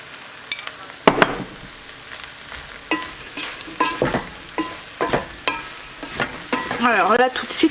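Mexican spices and cumin being stirred into beef in a hot pan, with repeated scraping strokes of a spoon over steady frying sizzle, close and moderately loud, with no talk.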